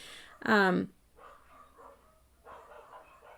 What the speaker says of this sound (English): Somebody must be here because the dogs are barking.